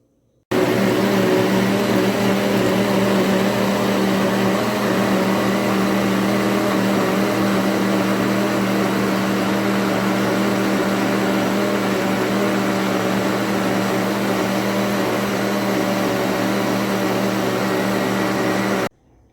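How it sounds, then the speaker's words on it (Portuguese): A blender runs continuously for about eighteen seconds, grinding orange cake batter made with whole eggs and oranges. The loud, steady motor whir starts abruptly and cuts off at the end. "e bater tudo no liquidificador por alguns minutos."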